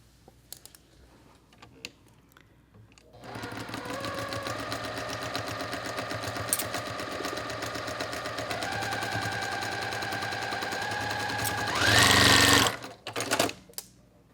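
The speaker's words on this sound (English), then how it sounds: "I'm gonna sew with a 1/4 inch seam" A sewing machine stitches a quarter-inch seam on a quilt block, starting after a few seconds of quiet handling and running steadily and close, with a brief faster burst near the end before stopping.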